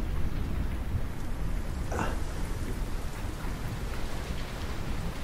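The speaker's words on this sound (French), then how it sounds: "il y a même de la pluie qui tombe" Rain falling at an abandoned urban site, a dense, continuous hiss of drops heard fairly close and steady, with a faint sharp sound briefly cutting through and no voices.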